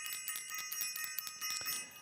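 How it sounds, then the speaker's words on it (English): A bell rings over and over in quick, bright, clustered strikes, with a steady shimmering ring hanging over the whole stretch, fairly close and with no voices. "I want to ring the bell."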